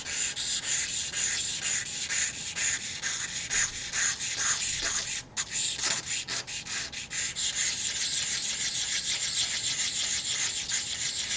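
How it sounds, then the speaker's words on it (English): A small metal part on a model ship being sanded with 1000 grit sandpaper, a close run of quick rhythmic rubbing strokes with a brief pause midway, alone without talk. "I'm just going to use my 1000 grit sandpaper here"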